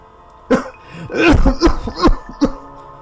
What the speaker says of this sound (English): Mr. Sully coughed and gasped for air